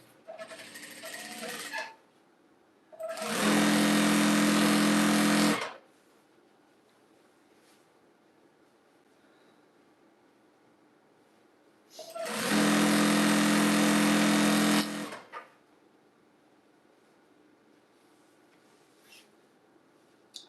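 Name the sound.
sewing machine sewing jelly roll strips together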